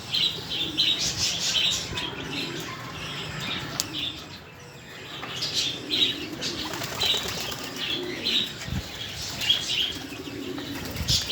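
Pigeons flapping their wings in flight inside an aviary with caged birds, a busy stretch of repeated wingbeats with soft cooing and chirps behind, dipping briefly midway before resuming.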